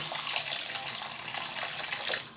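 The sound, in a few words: water being poured into a wok of sugar for syrup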